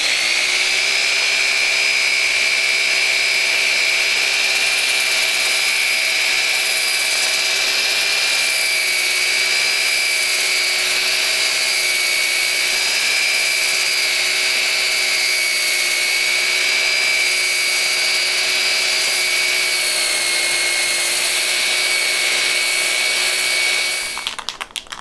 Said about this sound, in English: all I'm gonna do is sand this a little bit